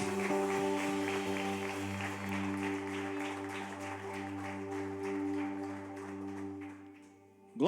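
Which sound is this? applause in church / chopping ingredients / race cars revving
applause in church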